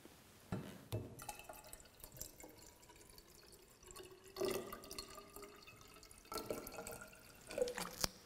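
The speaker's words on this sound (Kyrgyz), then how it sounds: "Аны үчүн адегенде мензуркага биз сууну куюп алабыз." Water is poured into a glass measuring cylinder, making faint trickling and splashing in a few separate bursts. Quiet background noise fills the gaps between pours.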